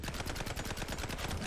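Rapid gunfire in a mouse detective video game, heard as a dense, even stream of repeated shots at a fast steady rhythm, fairly faint and continuous without pause.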